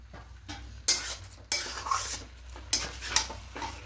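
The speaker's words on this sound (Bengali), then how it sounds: "এটা চালের সঙ্গে খুব ভালো করে মিশিয়ে নেব" Gobindobhog rice being stirred with spices in a pot, a spoon scraping and knocking against the metal in irregular strokes, with a faint sizzle beneath, close and moderately loud, no talk.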